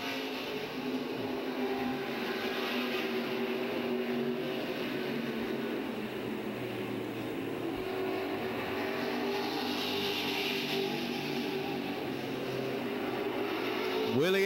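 Stock cars in a celebrity race at the historic 5/8-mile Music City Motorplex oval in Nashville, a distant, steady engine drone passing down the back straightaway in single file, faint and continuous.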